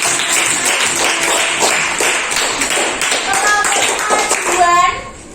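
Children in a sixth-grade mathematics classroom clap together for their classmates, a dense, lively patter of many hands lasting about five seconds, with children's voices mixed in and fading toward the end.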